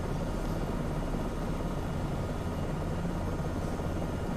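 Helicopter flying low over Bella Coola in winter in Microsoft Flight Simulator 2024, a steady, even rotor and engine drone that stays constant throughout, alone without talk.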